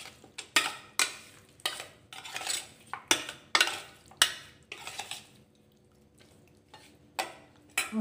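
A spoon or utensil scrapes and clinks against a bowl while chicken is mixed with turmeric powder and spices, giving close, sharp, uneven strokes with a short pause near the end.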